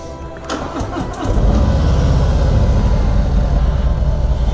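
A Harley-Davidson Road King motorcycle engine cranks briefly then catches and settles into a loud, deep, steady throbbing idle, close to the microphone.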